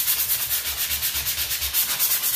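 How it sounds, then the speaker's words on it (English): A sanding block rubs over a wall patch in quick, even back-and-forth strokes, a close, raspy scraping repeated about every quarter second, with no voices. "Go ahead and start sanding this down. I like to use sanding blocks because they have a very wide surface."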